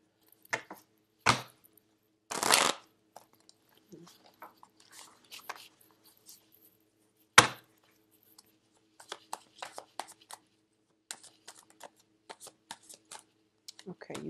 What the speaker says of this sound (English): I'm going to pull out five cards.